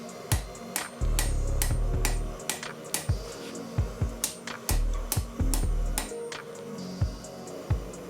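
A hammer strikes a leaf spring Viking seax blade on an anvil in sharp, ringing metallic blows at an irregular, quick rhythm, close and fairly loud, with low thuds and a rumble between the strikes.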